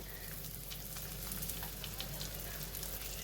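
Corn kernels dropped into a pan of garlic sautéing in oil for pasta, giving a steady soft sizzle and crackle that stays faint and even throughout, with no talking.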